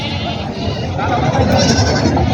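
Goats bleat at a large goat market in Vasmat, Hingoli district, with nearby crowd chatter and talk mixed in.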